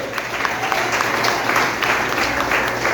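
Applause from a church congregation during a family worship service, a dense, steady clatter of many hands filling the room at even loudness throughout.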